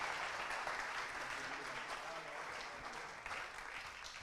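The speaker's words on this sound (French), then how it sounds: "Vous pouvez les applaudir pour leur accompagner à leur siège." Steady applause from a film festival audience in a hall, a dense even patter of many hands clapping at moderate distance, holding at a constant level for several seconds.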